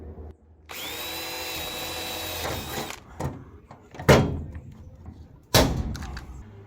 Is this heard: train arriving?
no